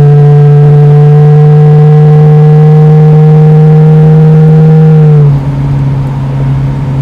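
A 1974 AMC Javelin hot rod with a 3-inch stainless steel exhaust drones loudly with a steady, deep engine tone that holds for several seconds, then abruptly drops as the throttle eases off.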